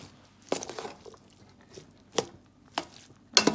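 A spoon scrapes and turns vegetable fried rice in a wide pot, giving a few sparse, soft clatters and scrapes spaced apart, with a quiet background between strokes.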